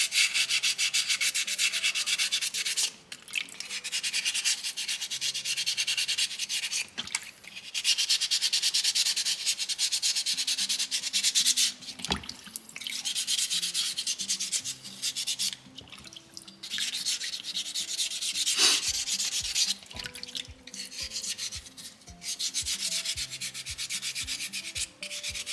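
Folded sandpaper rubs over a soapstone owl carving, worked into corners and creases. Close, steady scratchy strokes continue throughout with a few brief pauses and knocks, and no talking.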